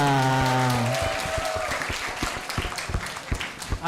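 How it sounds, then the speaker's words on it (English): A voice speaks briefly, then an audience at an international geology olympiad claps for a team, scattered, fairly close hand claps that thin out over a few seconds. "Please give a round of applause for Team Yasa."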